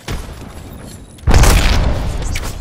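A frag grenade goes off in Apex Legends: faint low rumble, then a sudden loud, close boom about midway that decays slowly into a long rumbling tail, with no voices.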